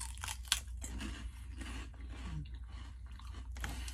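Someone bites and chews cheddar and sea salt cauliflower stalk snacks, producing sharp, close crunches followed by a steady stretch of brittle munching, with no talk.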